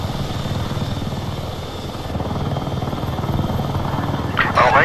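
Helicopter in the video game Battlefield 6, a steady, loud, pulsing rotor drone that holds throughout, with a brighter burst of noise near the end.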